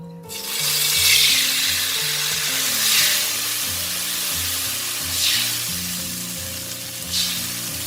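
Fish sauce poured into a pan on low heat after the frying oil is drained, giving a continuous bright sizzle with several swelling bursts of hiss, alone and fairly close.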